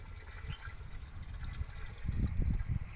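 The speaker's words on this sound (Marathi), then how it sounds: "गूळ घेतला आपण दोन किलो त्याला पाण्यामध्ये एकजीव केला आहे ते आपल्याला टाकायचं आहे" Two kilograms of jaggery dissolved in water is poured into a drum, a close gurgling splash that rises and grows fuller toward the end, with no talking.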